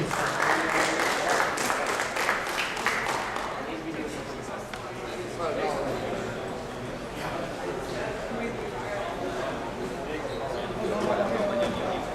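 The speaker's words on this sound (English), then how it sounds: "guys, a big round of applause" A crowd at startup pitch finals claps loudly for a few seconds, then the applause thins and fades as voices talk over it.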